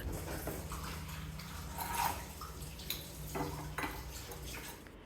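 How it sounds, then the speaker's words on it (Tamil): Metal cookware clanks and scrapes against a stovetop up close, a few distinct knocks over a low background hum. "இந்த பேனை அப்படியே பக்கத்து அடுப்புக்கு மாற்றிட்டு"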